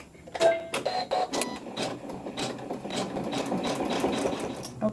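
A sewing machine stitches a quilt block in a fast, even mechanical chatter of needle strokes. A few separate clicks come at the start, then the stitching runs steadily, close and alone.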